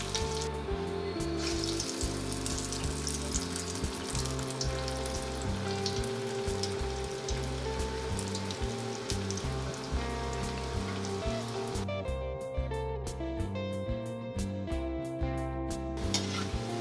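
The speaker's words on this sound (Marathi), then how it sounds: "गॅसचा फ्लेम लो टू मीडियम करत आपल्याला हे वडे तळून घ्यायचे आहेत।" Vadas deep-frying in oil over a low to medium flame give a dense, continuous bubbling sizzle with a rain-like hiss, close and steady throughout, under a constant layer of background music.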